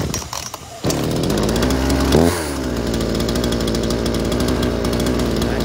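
A used Japanese-market chainsaw, a G16 from a batch of Stihl, Husqvarna, Shindaiwa, Echo Kioritz and Makita saws, is started and runs steadily at part throttle with a brief rev, loud and close, its engine buzzing smoothly.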